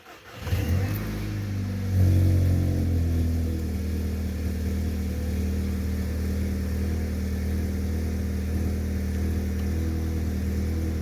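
A Volkswagen GTI engine cranks and catches, then settles into a steady, fairly loud idle with a low rumbling hum that runs on without further revving.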